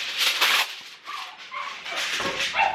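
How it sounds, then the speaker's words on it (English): Several excited dogs barking, yipping and whimpering in a home, a close, busy overlapping mix of high yelps and whines throughout. "Those dogs are crazy."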